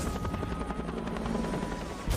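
A helicopter in a film scene, caught as a rampaging robot attacks it, gives a loud, constant rotor thrum. A sharp burst of noise breaks in just before the end.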